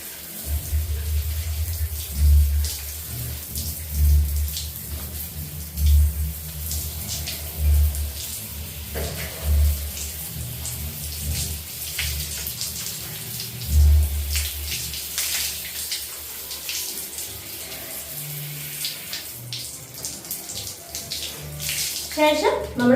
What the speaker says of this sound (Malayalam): ആദ്യം പച്ചവെള്ളത്തിൽ മുടി ഒന്ന് നനച്ചെടുത്ത് കഴുകിയെടുത്തതിന് ശേഷം മാത്രം നമ്മൾ ആ വെള്ളം ഉപയോഗിക്കുക